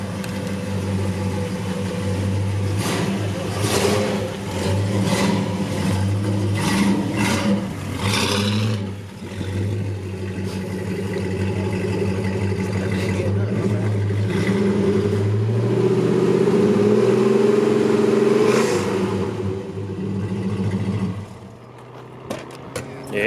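A 1969 Dodge Charger engine with Black Widow Venom 300 dual exhaust and an H pipe revs in a series of throaty blips, then settles into a deep, loud idle rumble that swells and fades.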